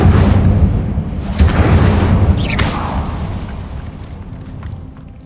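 Incendio fire spell in Hogwarts Legacy: a loud fiery burst with roaring rumble, a second whooshing flare, then a fading crackling tail, with no talk over it.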